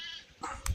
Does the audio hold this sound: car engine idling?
no